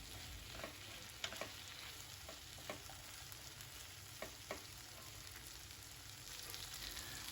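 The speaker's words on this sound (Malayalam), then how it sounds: "എന്നിട്ട് ജസ്റ്റ് ഒന്ന് മിക്സ് ചെയ്യാം." Long beans stir-fried for a kottapayar dry curry sizzle steadily in a pan, with sharp scraping clicks of a spatula at irregular intervals as they are mixed.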